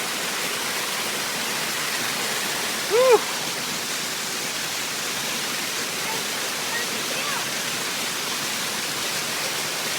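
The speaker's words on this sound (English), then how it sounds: "Now we're gonna go enjoy the waterfall." A waterfall on a North Fork Park trail roars steadily and close, a dense wash of falling water throughout, with a brief shout near the start.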